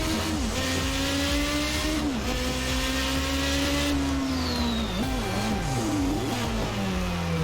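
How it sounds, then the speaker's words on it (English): Toleman T184 Formula 1 car in Assetto Corsa, its turbo engine at full throttle, a loud continuous drone climbing and dropping through gear changes, with a high turbo whistle in the middle. "You can hear the turbo, flat out."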